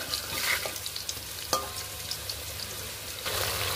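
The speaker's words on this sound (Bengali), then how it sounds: "আলুগুলো হলুদ লবণ দিয়ে আমি ভেজে নিলাম, দেখুন সুন্দর লাল লাল করে।" Potato pieces coated in turmeric and salt fry in hot oil, a steady close sizzle with a sharp clatter of a spatula partway through and a brief swell of louder hissing near the end, no one speaking.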